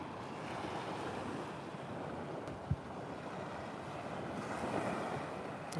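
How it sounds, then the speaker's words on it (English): Ocean waves wash steadily against the shore in a continuous broad rush, faint and distant, with wind buffeting the microphone and one brief knock partway through. "And then the waves, you hear them crashing."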